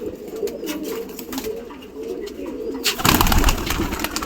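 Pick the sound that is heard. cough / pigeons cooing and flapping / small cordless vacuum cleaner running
pigeons cooing and flapping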